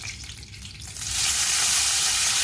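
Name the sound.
curry leaves and fenugreek sizzling in hot oil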